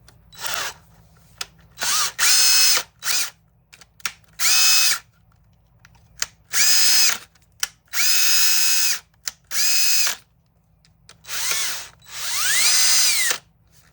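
A DeWalt DCD 780 cordless drill, freshly cleaned, whirs in a series of short, loud bursts with quick stops between, some triggers ramping speed up and down.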